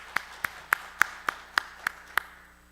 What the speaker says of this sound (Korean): 우리 예배를 오늘 받으신 하나님께 감사와 영광의 박수를 돌려드리겠습니다.